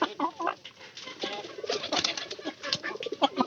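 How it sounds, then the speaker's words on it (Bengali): Several pigeons coo in soft, repeated throaty calls that overlap at close range, with faint clucking from chickens nearby and no talk. "আর বেশিরভাগ ঝামেলা করে এই কবুতর গুলা"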